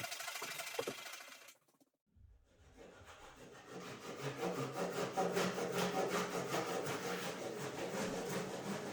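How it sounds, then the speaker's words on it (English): Hand sawing through wood for a workbench top: after a short pause, a steady, rapid rasping stroke rhythm builds and continues, close and fairly loud, with no talking. "I'm going to get to sawing."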